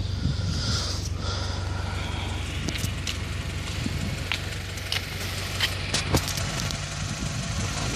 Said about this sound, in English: Let's see if I can get this exhaust.